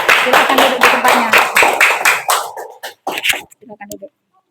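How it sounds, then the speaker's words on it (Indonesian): A class of students claps their hands together in a lesson, a burst of many hands close by that thins out into a few scattered claps before stopping. "Ya, tepuk tangan dulu."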